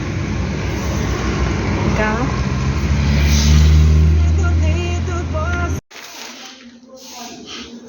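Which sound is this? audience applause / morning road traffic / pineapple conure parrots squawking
morning road traffic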